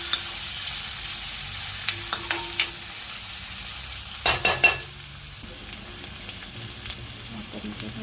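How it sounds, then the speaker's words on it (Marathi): Curry leaves and onion fry in a pan with mustard seeds and cumin for a sprouted moth bean curry, giving a steady hiss with stirring clatters and a few sharp pops and crackles near the middle. "कढीपत्ता आणि कांदा तळून घेऊया."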